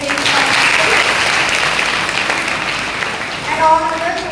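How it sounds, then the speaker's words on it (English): A large school audience claps steadily and loudly throughout, with a few voices and cheers rising near the end. "Please clap for these 8 participants."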